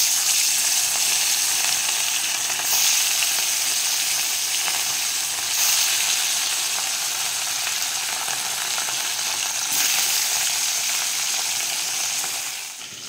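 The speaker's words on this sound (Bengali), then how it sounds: "তেল গরম হয়ে গেছে, মাছগুলো ভেজে নেব।" Hilsa fish sizzle and spit loudly in hot mustard oil in a kadai, a continuous bright crackle with a few sharper bursts and no voices.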